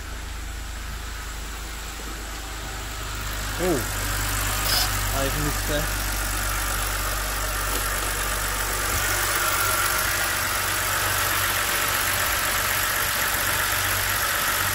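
A BMW E92 325i engine idles steadily with a low, even hum and faint knocking texture, as someone speaks briefly over it early on.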